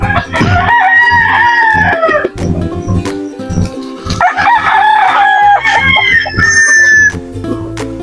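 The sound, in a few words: native chickens clucking and rooster crowing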